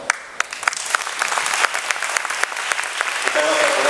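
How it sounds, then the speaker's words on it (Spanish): An audience applauds at the close of a conference on internal order in Venezuela, a dense stream of clapping that swells slightly and holds steady throughout. "pedimos con ese fuerte aplauso"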